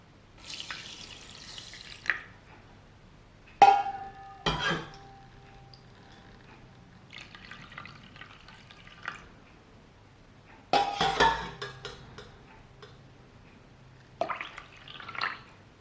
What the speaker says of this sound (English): cover the rice with the water and wash it until the water will be clear